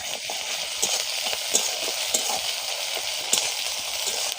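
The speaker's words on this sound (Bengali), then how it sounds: "দিয়ে একটু ভেজে নেব হালকা করে।" Ginger garlic paste frying in a pan after whole onions, a close continuous sizzle with bright crackling and a few sharp pops and stirring scrapes, heard alone without talk.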